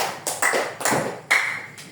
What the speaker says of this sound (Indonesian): tepuk tangan dulu untuk kelompok kreatif